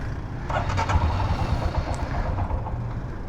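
A Royal Enfield Himalayan motorcycle with add-on auxiliary lights cranks but fails to start, its starter whirring and churning in a short, uneven burst, close by, before settling into a low rumble.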